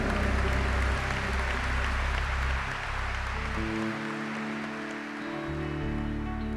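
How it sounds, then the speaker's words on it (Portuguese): A church congregation applauds during a Catholic Mass, a dense, steady wash of many hands clapping in a large room, easing slightly partway through. "Vamos aplaudir para valer."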